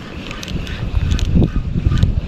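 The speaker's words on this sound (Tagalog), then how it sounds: "Ang lakas ng hangin." Gusty wind buffets the microphone in rough, uneven rumbles, loud and close, with no clear voices.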